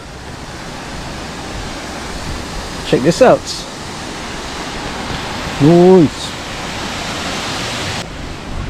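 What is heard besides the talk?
waterfall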